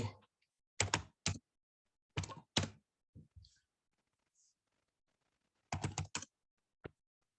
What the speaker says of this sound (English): I will type one motion in chat.